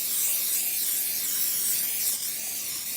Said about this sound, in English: We want to spray your pans.